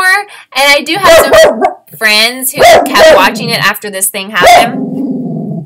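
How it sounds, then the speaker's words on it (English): A dog barks repeatedly in short bursts close by, mixed in with someone talking continuously over the noise. "I'm so sorry about the barking."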